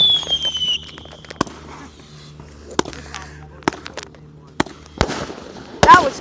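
Fireworks go off outdoors as a series of sharp, scattered cracks and pops, some near and loud, others fainter, separated by quieter stretches, with a whistling rise at the start and crackle toward the end.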